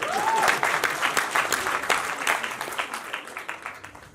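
An audience at an awards ceremony and international friendship conference applauds, a dense burst of clapping that starts loud and slowly thins and fades over about four seconds.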